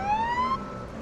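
An ambulance siren in the video game Police Simulator: Patrol Officers, a rising electronic wail that cuts off about halfway through over low traffic rumble.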